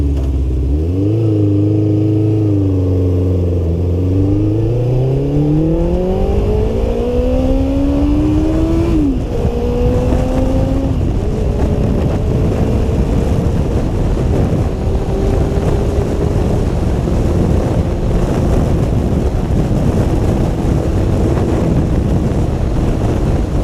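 Kawasaki GPX600 motorcycle engine on a road at speed, pitch climbing steeply through the lower gears then settling into a steady high drone, with constant wind rush throughout and no talking.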